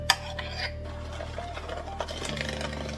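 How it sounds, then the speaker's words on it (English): Butter cake batter being stirred together in a bowl, a steady scraping and clinking of utensil against the bowl with a low hum underneath, close and moderately loud. "now what I have to do is to mix everything together"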